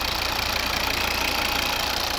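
Steady close idle of a 2.0-litre D4 diesel in a 2011 Volvo V60 automatic: a smooth continuous drone with light regular clatter, constant in level and free of voices.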